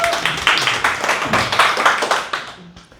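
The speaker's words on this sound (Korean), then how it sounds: "자, 박수." A small vocal class gives a short round of hand clapping for a new student who has joined, a few people clapping at close range in uneven bursts that fade out after about three seconds, with no talking over it.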